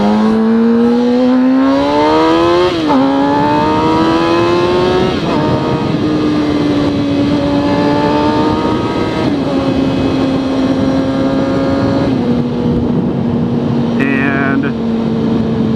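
Interstate I-35 traffic heard from beneath the overpass: loud, continuous engine drone with rising and falling revving tones of passing vehicles filling the whole clip, close and steady.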